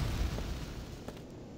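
Grenade explosion in Quake 2 in a mine setting, a deep rumbling boom that fades out over about a second and a half, with faint debris clicks near the end.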